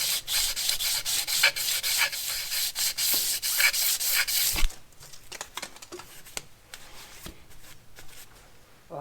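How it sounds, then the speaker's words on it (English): Hand polishing of a part during a rebuild of a 26-year-old van engine, with steady close abrasive rubbing strokes for several seconds, then quieter scattered scrapes and light handling. "Just going to give this a little polishing up."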